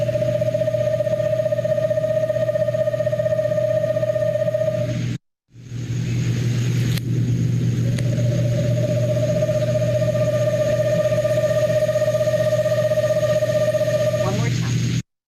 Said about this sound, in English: we have eastern screech owls right here in our neighborhood